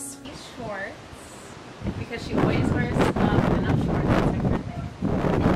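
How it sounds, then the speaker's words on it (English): Heavy wind buffeting a handheld microphone outdoors on a very windy day, a constant loud rumble and roar that swells and gusts over several seconds, with someone talking through it and partly masked by it. "my brain didn't know that you can't hear me talk when it's windy"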